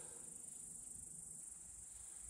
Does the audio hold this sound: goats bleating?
no